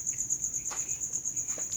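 Crickets being raised for feed chirp in a rapid, regular pulsing trill, steady and fairly close, with faint scattered background noises.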